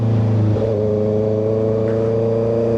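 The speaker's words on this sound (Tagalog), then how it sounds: "Sarap ng motor, tapos ganyan yung tunog." A 2025 Honda CBR650R sport motorcycle engine hums at close range while riding at night, its pitch shifting once early on, then holding an even drone with no voices.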